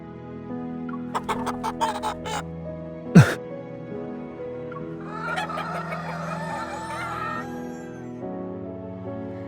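Agitated chicken clucks and squawks burst out in a cluster, with a sharp cry partway through, over a steady low musical bed.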